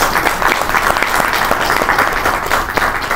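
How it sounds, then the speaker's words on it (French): Sustained applause fills a French-language conference opening on the African intellectual, a dense steady wash of hand claps from a seated audience, loud and continuous with no voices over it. "j'aimerais quand même qu'on reconnaisse cela et qu'on l'applaudisse"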